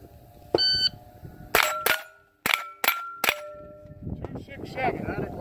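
Gunshots ring off steel shooting targets at a steel shooting championship, a quick string of five sharp cracks each followed by a metallic ping, with a timer beep before them and faint talk afterward.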